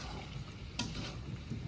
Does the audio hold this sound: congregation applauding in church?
no